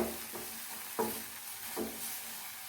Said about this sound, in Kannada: ಹಾಕಿ ಎಲ್ಲವನ್ನು ಒಮ್ಮೆ ಫ್ರೈ ಮಾಡ್ಕೊಳ್ಳಿ